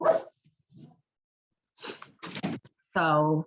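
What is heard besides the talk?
dog barking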